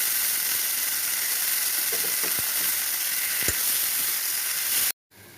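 Pui saag greens sizzle steadily in a hot frying pan with a loud, constant hiss, a few faint stirring clicks, then cut off abruptly near the end.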